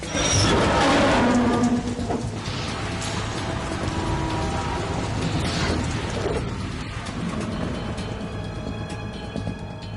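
Dense, steady rain patter in the video game Metal Gear Solid 2, with low rumbling and mechanical noise, loudest at the start and continuing evenly throughout, no voices.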